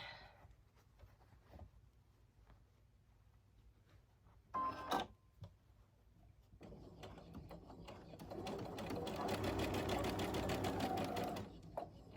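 A sewing machine stitching a fabric seam runs quietly in a short burst, then settles into a louder steady mechanical whir with rapid clicking, preceded by faint handling sounds.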